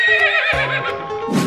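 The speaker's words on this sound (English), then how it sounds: "Zebra." A zebra call in an animal-ball video game: one loud, close, horse-like whinny with a wavering rising-and-falling tone, ending in a breathy snort, heard alone.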